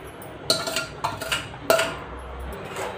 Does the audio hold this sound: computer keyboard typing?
no